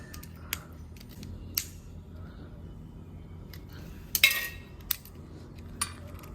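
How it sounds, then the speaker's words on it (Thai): A plastic lighter being pried open by hand to get at the igniter, heard as sparse sharp clicks and snaps scattered across a quiet, steady background, one louder crackling snap near the middle. "ให้เราแงะไฟแช็กออก เราจะเอาตัวจุดชนวนด้านในมัน"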